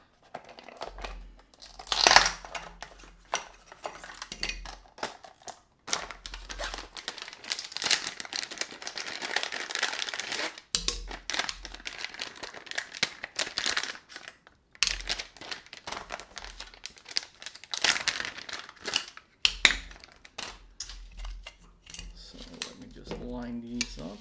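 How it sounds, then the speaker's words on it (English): Items being pulled out of plastic packaging, with steady crinkling and crackling of plastic and occasional light knocks, close and fairly quiet throughout. "Let me just take them out of the packaging so you get rid of the glare there."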